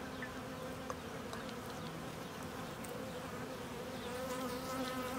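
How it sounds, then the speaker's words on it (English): Honey bees buzz steadily around jars of feeding syrup, a close, continuous droning hum with several insects weaving near the microphone and no talking. "See, the bees are really interested in me. They can smell that syrup already."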